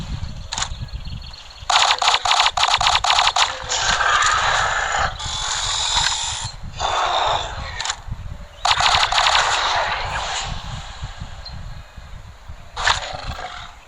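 An alien-like gun in the video game Dino Hunter: Deadly Shores fires in several loud, rapid bursts, separated by short pauses and scattered single shots, all through the fourteen seconds.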